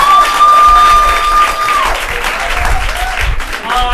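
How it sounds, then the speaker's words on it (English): A crowd claps loudly with some cheering, the applause rising in bursts while a sustained tone fades out early on. "Let's give these guys a big round of applause."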